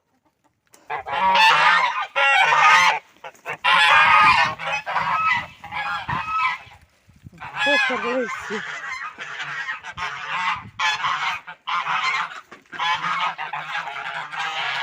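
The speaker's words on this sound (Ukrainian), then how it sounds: "Зараз гусей випущу." Loud, repeated goose honks in irregular bursts, close by, with a brief stretch of talk in the middle.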